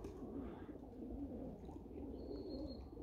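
Pigeons coo in low, rolling, repeated phrases close by, with a faint background hum and a thin high chirp near the end.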